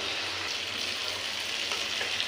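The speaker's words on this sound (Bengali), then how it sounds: "দিয়ে একটু নেড়ে নেবো।" Ground turmeric, coriander, cumin and meat masala frying in oil for chicken curry, a steady close-up sizzle with faint stirring scrapes throughout, no voices.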